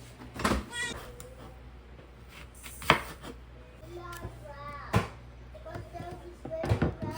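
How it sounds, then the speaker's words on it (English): A knife cuts fruit for a child's school lunchbox in a home kitchen: a few sharp, separate taps on the board, spaced seconds apart, under an adult and someone talking. "Let me cut fruits."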